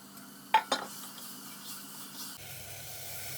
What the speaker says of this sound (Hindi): तो बस अब मैं डाल दूंगी इसमें ये आलू